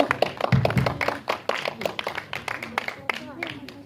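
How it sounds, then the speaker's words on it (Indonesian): Members of the media clap for the cast of the film Inang at a preview event, with quick, uneven hand claps under nearly continuous talking. "Tepuk tangan dong sekali lagi teman-teman media."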